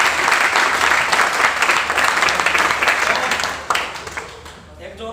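An audience claps loudly and steadily for about four seconds before the applause thins out and fades, with faint voices mixed into the crowd noise.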